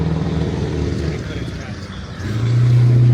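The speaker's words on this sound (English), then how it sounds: "A straight piped Chevy Blazer just drove by." A straight-piped Chevy Blazer with its catalytic converter removed drives by, a loud low engine drone that swells and holds strong toward the end, with talk over the passing.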